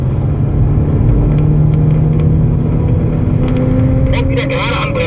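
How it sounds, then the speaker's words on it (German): Golf 7 R or Porsche 996 Cup race car getting back on the throttle at a curb during a track training lap, a loud steady engine drone with a rising tone, heard from inside over a person talking. "An dem zweiten Curb hier gehen wir wieder ans Gas."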